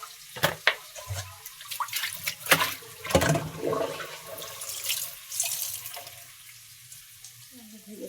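Potatoes are washed under a running kitchen tap, with water splashing and gushing unevenly, loud near bursts and handling knocks over steady flow.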